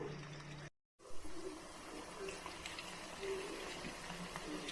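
Veg Manchurian balls deep frying in hot oil give a steady bubbling sizzle across the whole stretch, broken by a brief dropout near the start, with no talk over it.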